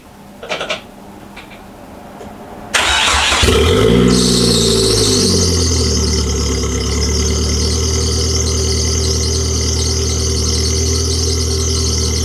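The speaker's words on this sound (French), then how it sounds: "Il a démarré nickel, franchement je suis étonné qu'elle ait démarré aussi bien, il n'y a pas d'échappement" A Nissan S13 running with no exhaust fitted cranks briefly, catches and settles into a loud, raw, steady idle that carries on alone, with a high whine riding over the rough engine note.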